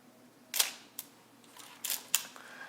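Set to 1/250 second, an Olympus OM-2n film SLR trips its shutter with quick, crisp snaps close to the microphone, a few sharp mechanical clicks standing alone over faint room noise.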